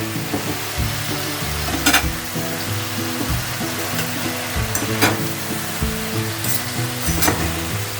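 Vegetable noodles stirred and tossed with a fork in a hot pan, steady loud sizzling and frying with sharp scraping taps of the fork against the pan, close up and continuous, no talking.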